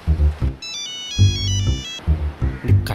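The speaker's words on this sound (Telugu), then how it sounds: "నీకే ఫోన్ చేస్తున్నట్టున్నాడు" A mobile phone rings with an incoming call, playing a loud, close melodic ringtone: bright high beeping notes over a pulsing bass rhythm, repeating in short phrases with no talk over it.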